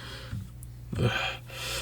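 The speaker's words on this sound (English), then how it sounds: "Jigen sits on the hood of the Fiat panting." Jigen panting and out of breath in a video game, a few short gasping breaths close up, one sharp intake near the middle.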